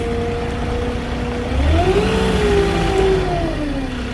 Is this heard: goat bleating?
no